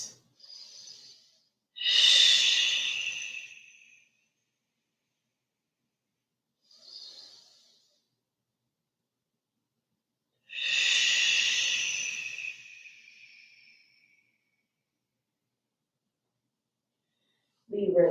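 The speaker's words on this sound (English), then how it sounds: "2 more deep breaths." Slow, deep breaths during a vinyasa flow yoga session: two long, airy hissing inhales or exhales with a softer one between, close and clear, set against near silence.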